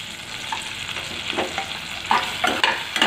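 Green chili, garlic cloves and a small piece of ginger sizzle in a pan for an onion-tomato curry, with a steady close fry and intermittent scraping stir strokes that grow louder toward the end.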